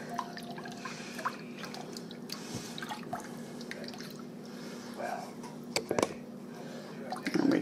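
A spoon stirs congealed salad mix with hot water, making wet sloshing, dripping and squishing sounds that are close and irregular, with a few sharper clinks.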